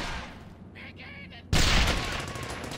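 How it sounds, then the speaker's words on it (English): Grenade explosion and gunfire in the World War II shooter Brothers In Arms: Hell's Highway, muffled combat noise and brief bursts before a sudden loud, broad blast that rumbles on and slowly fades. "Let's get that grenade out."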